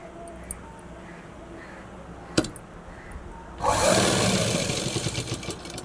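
A blouse shape belt is stitched on a sewing machine: quiet for the first half, then the machine starts up with a loud, steady whirring run that continues to the end.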